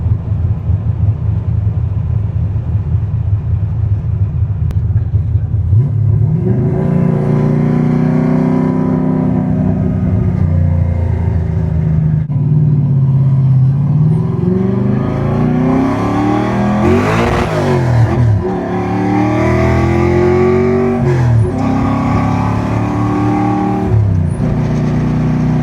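A big-cam car with a manual gearbox idles roughly, then revs hard in repeated rising and falling pulls toward a high-rpm limiter, loud and close with no talk.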